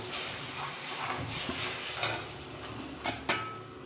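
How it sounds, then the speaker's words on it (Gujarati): Gravy mixture for a Gujarati potato curry simmers and bubbles in a pan, with steady close sizzling, a spoon stirring and a few sharp metallic clinks. "એને આપણે ઉકાળી લઈશું।"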